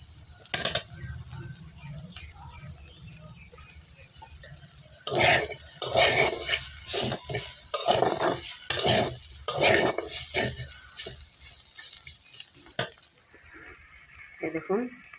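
Cauliflower and potatoes frying in a pan are stirred with a spatula, scraping and clattering over a steady sizzle, close, with a few sharp knocks and a lid clink.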